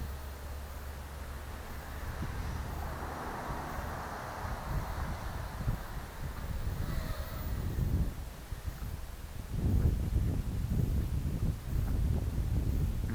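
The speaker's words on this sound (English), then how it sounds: "The reason things are going crazy is wind." Outdoor wind buffets the microphone during a small RC helicopter flight (Vitality H36), a continuous low rumbling roar that swells into stronger gusts toward the end, with no talking.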